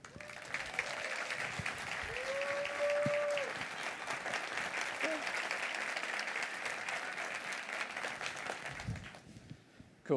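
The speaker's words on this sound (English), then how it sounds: "they will give you a wonderful IMEX round of applause" A keynote audience breaks into sustained applause at a conference, the clapping holding steady for about nine seconds before it tapers off and fades near the end.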